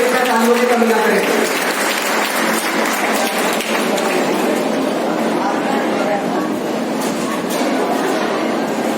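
Audience applause at the Numetry Academy school annual function and award ceremony: dense, steady clapping from a crowd that carries on for the whole stretch without a break, with a faint voice in the first moments.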